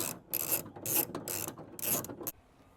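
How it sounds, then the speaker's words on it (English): An 8mm ratchet clicks as it turns the small screws holding the spoiler on a new Subaru WRX, in several quick bursts of close, crisp clicking separated by short pauses. "I had to hit it with an 8mm ratchet"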